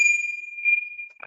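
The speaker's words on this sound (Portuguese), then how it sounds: "vamos encerrar nossa reunião com o sininho aqui" A small meeting bell rings once to close a Rotary Club of Copacabana session, leaving a clear, sustained metallic tone that slowly fades, with a faint rustle near the end.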